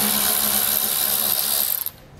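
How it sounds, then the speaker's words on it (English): A 7mm socket on a ratchet loosens bolts while wiring is accessed on a 2023 Ford truck, giving a dense, continuous clicking buzz for nearly two seconds before stopping abruptly. "We're using a 7mm socket to remove these bolts."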